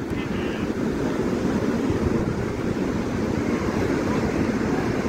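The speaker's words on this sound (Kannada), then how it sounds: "ವಿಪರೀತ ಗಾಳಿ ಬೇರೆ, ಸಕಲ ಗಾಳಿ ಹೊಡಿತೈತೆ." Strong wind buffets the microphone at Baga beach in Goa, a steady low roar with surf mixed in, constant and loud across the whole stretch with no talk.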